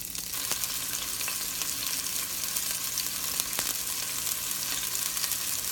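Loose andouille-style sausage meat squeezed from its casing sizzles steadily in a pan for a paleo jambalaya, a dense, even crackle with occasional sharper pops and no talking.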